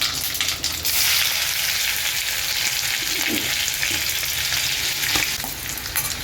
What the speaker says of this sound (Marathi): तेल गरम झालं आहे आता त्याच्यामध्ये आपण अर्धा चमचा मोहरी टाकूया अर्धा चमचा जिरा